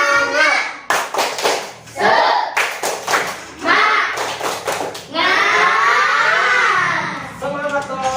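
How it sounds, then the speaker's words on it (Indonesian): A school class performs the 'tepuk semangat' rhythmic clapping chant, with children clapping in sharp, patterned bursts between their chanted voices, close and loud, ending in a longer stretch of group chanting. "Ayo tepuk semangat. Tepuk semangat."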